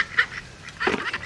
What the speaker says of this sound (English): Oh, here comes the last duck.